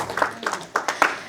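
Quick rhythmic clapping from a church congregation, a short run of fairly loud, evenly paced claps close by.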